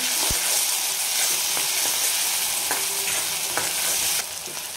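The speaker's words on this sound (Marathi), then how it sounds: "एक छोटासा टोमॅटो कट करून घेतलेला आहे, ते पण टाकते" A small chopped tomato drops into hot oil in a pan while a spicy radish chutney is cooked, making a loud, close, steady sizzle with a few light clinks before it eases slightly near the end.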